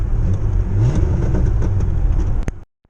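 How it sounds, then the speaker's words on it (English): A Ford Ranger truck engine running rich and refusing to idle revs hard and loud near the microphone for over two seconds, then cuts off abruptly into near silence with a faint click. "Now it's running super rich. It won't idle, but it gives me power if I put my foot to the floor."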